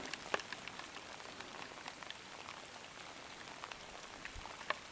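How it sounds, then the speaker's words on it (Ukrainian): Heavy rain pours outdoors on a fishing trip by the Dniester river, a dense, steady hiss of drops with scattered sharper patters, continuous for about five seconds with no voices. "Так періщить дощ"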